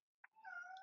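A cat gives one short, clear meow, preceded by a brief high chirp, close by in a quiet room.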